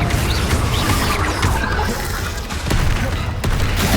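Confringo blasting-spell explosions in Hogwarts Legacy, a dense continuous roar of booming magical blasts and crackling impacts amid chaotic combat, loud throughout with brief sharp spikes.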